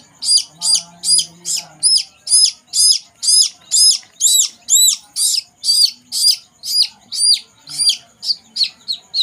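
Young chicks held by the neck for a Marek's vaccine chirp loudly and close up, a steady run of about twenty sharp, evenly spaced peeps, with no talking.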